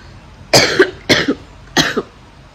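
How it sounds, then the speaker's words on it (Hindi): Three heavy, chesty coughs in a row, each a harsh double burst, close and loud with short pauses between. "इस टाइप की ना हैवी वाली खांसी हो रही है।"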